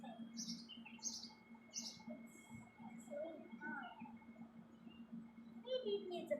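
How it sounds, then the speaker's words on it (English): Baby bird chirping outdoors, with short high tweets repeating in quick bursts over steady background noise, mostly in the first two seconds and again near the end, while quiet voices murmur underneath. "See, the bird is actually there."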